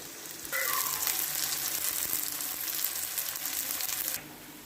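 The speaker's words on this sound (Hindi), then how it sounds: "अभी हमने प्याज जो है उसको ब्राउन किया है" Onions for a chicken malai handi frying and browning in a pan, a steady close sizzle that starts abruptly, runs without talk, then stops.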